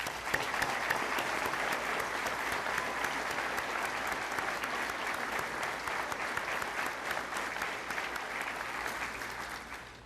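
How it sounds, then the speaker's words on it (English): Graduation audience applauding the high school class of 2016, a broad sustained roar of many hands clapping at once, even and continuous from start to finish, heard at a distance as from a large hall. "Let's give them a round of applause"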